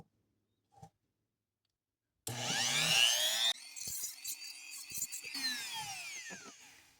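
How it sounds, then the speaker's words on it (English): Razor blade edge being scraped back and forth on sandpaper glued to a hard surface, a loud, continuous gritty rasp with rhythmic strokes, heard alone after a brief quiet start. "we're gonna go ahead and start with removing the edge on the razor blade."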